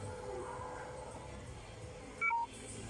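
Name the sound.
cellphone low battery warning beep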